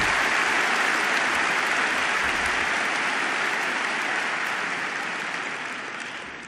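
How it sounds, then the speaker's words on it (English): At a Berkshire Hathaway annual shareholders' meeting, a large audience breaks into loud, dense applause that holds steady and slowly fades toward the end. "Now you can go wild with applause for the group."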